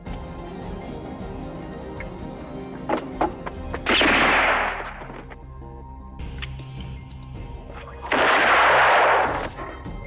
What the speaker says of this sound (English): Elindio shoots him from a window, causing Mortimer to drop his pistol.